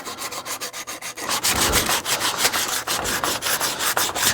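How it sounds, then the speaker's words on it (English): A wooden decoy is fine-sanded by hand with 220 grit sandpaper, giving steady, close rasping strokes in a quick repeating rhythm that grow denser and louder partway through, with no voices. "we're down to the fine sanding on this decoy"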